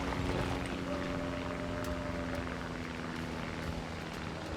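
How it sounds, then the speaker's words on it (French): A propeller airplane drones steadily overhead in a tank battle video game, with a continuous engine hum and whining tones that hold across the whole stretch at moderate loudness. "Le mec joue en avion à hélice."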